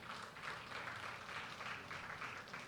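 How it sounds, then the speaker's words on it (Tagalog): A church congregation claps together for the Lord, a faint, steady patter of many hands sustained throughout without a break. "Pumalakpak nga sa Panginoon patingin."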